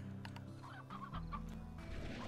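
Chickens cluck in the Slime Rancher video game, several short close clucks over a low steady background hum.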